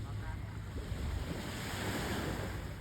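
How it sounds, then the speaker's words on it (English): Ocean waves break and wash up on a shore in a steady, continuous roar of surf, with wind buffeting the microphone throughout. "it would be the sound of the waves crashing up on the shore"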